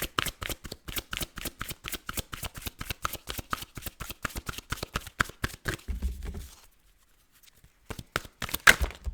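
Tarot cards shuffled in a steady, rapid riffle of crisp flicks for about six seconds, a short pause, then a few more brief close card slaps and flutters.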